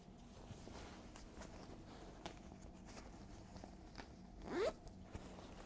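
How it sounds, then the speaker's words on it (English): The zipper fly on a pair of homemade flared jeans is pulled open in one quick rising rasp, faint and close amid quiet fabric rustling and handling. "We have a zippered fly. Let me open it up for you."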